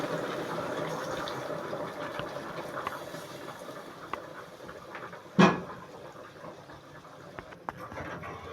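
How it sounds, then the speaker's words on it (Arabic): Boiling water poured from a kettle over beef tripe for an Egyptian tagine, a steady watery rush and gurgle running throughout at moderate level, with one brief louder splash midway and no talking. "ننزل بالميه عليها مغليه"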